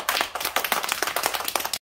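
Young children in a kindergarten class clap together in a short burst of uneven, rapid hand claps, close and fairly loud, stopping abruptly after under two seconds.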